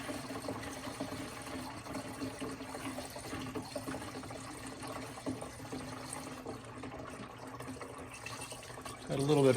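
Coolant draining from a 1996 Mazda Miata radiator in a garage, a steady low trickle and splatter running continuously, faint and close, ending in a brief louder burst at the end.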